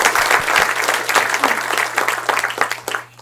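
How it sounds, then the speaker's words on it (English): Dense audience applause for the installation team at an artist talk and performance, a sustained wash of many hands clapping that tapers off at the end. "So let's give them another round of applause."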